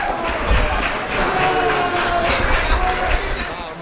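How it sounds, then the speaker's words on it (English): Crowd in an airport applauds veterans on an Honor Flight parade, a continuous roar of clapping and cheering heard at moderate distance, with voices mixed into the noise. "A parade of heroes through the airport with roaring applause at every turn."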